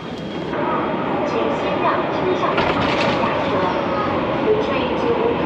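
A Hong Kong MTR Tuen Ma Line metro train runs with a steady, loud rumble and rolling rail noise, with faint squeaks and clatter over the constant roar.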